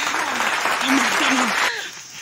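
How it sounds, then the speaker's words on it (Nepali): Applause from a small group gathered outdoors near a new bridge for a Christmas dance video shoot, dense clapping lasting about two seconds with voices mixed in before it thins out. "ताली ताली"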